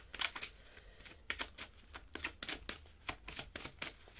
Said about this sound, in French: On va aller mettre une carte sur cette carte d'accident parce que je l'aime pas trop cette carte